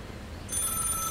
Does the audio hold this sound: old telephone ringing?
yes